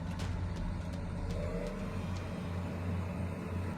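A massive tractor stuck in mud with its engine straining, a steady low rumbling drone that holds at a constant level with faint clanks over it.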